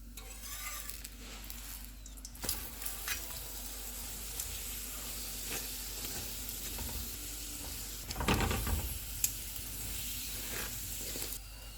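Cauliflower paratha frying in ghee on a pan, giving a soft, steady sizzle with occasional scraping and stirring noises, fairly quiet and close, with no voices.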